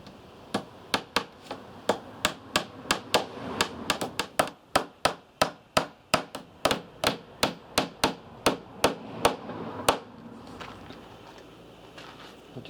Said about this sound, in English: I'm just going to tack that down.